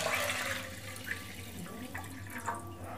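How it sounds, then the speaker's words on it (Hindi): Water poured from a vessel into a cooking pot while making sweet zarda rice, a steady splashing, gurgling pour heard up close and alone for a few seconds. "अब भगोने में 1 लीटर पानी डालेंगे।"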